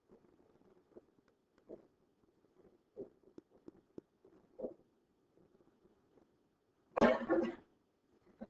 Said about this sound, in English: Sorry, keep coughing here